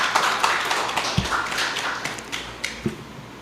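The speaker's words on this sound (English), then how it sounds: "We deserve a round of applause for him." Scattered, fairly light clapping from a small audience at a press conference, individual claps and taps standing out irregularly rather than forming a dense wall, moderately quiet.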